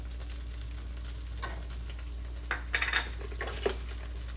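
Garlic sizzling in a pan as it fries for Filipino adobo, a faint steady hiss with a few sharp scraping and clinking bursts from a utensil against the pan near the end.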